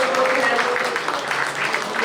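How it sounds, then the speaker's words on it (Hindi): Audience applause at an Urdu mushaira poetry gathering in Toronto, a dense, steady wash of many hands clapping close by that fills the whole stretch without letting up. "आप सबकी भरपूर तालियों में बशारत रेहान साहब"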